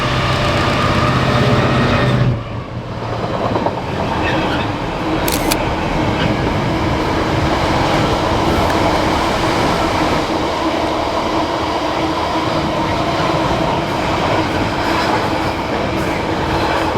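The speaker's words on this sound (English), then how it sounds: "we've actually got a Freightliner coming through" A Freightliner freight train rolls past on the Birch Coppice branch near Birmingham, loud and close, with a steady rumble of wagons and rhythmic wheel clatter running continuously throughout.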